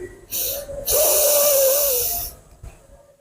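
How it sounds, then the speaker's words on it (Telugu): A forceful, hissing breath pushed out through the left nostril in alternate-nostril pranayama breathing, with a short puff first and then a long steady exhale, close and loud. "ఎడవ నాభితోటి శ్వాస పూర్తిగా వదలాలి"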